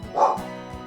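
A single short dog bark or yip from Barco the dog on the 1976 New Howdy Doody Show, a close, loud bark followed by a brief tail.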